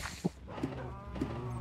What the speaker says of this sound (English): Let's take a look at all these cows real quick.